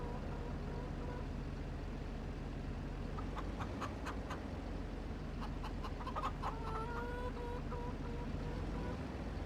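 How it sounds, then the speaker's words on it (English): Chickens cluck in a Farming Simulator 25 farmyard, short bursts of clucking and squawks over a steady, loud vehicle engine drone that runs the whole time. "we got some eggs from our chickens"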